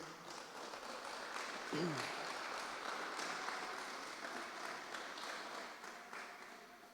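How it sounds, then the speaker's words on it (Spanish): A church congregation applauding during a Spanish-language service, a steady, distant wash of clapping that holds at even volume throughout, with a brief voice heard under it near the start. "Dele otro fuerte aplauso al Señor."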